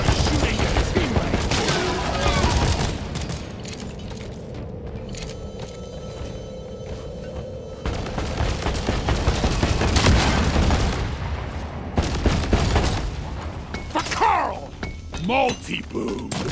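Explosions and blasts from cluster grenades in the co-op mining shooter Deep Rock Galactic, loud and repeated over several seconds amid gunfire-like bursts, with people talking and shouting over the game sounds.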